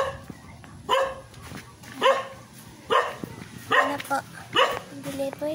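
A dog barks at a house during a delivery, sharp single barks spaced about a second apart, fairly close, with occasional whimpering yips in between.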